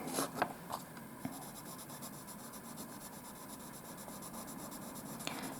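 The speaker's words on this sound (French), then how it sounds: "quand on passe le crayon sur une sous-couche de gouache" Colored pencil drawn across paper over a gouache underlayer on a tilted table, a soft continuous scratchy rubbing, close and quiet, with a few louder strokes near the start and end.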